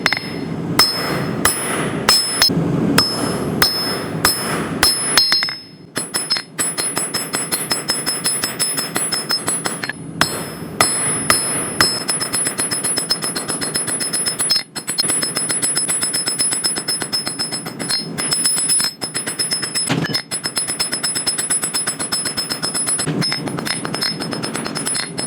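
A blacksmith's hammer strikes bar stock on an anvil again and again in quick, ringing metallic blows, loud and close, with a brief pause partway through before the rapid pounding resumes.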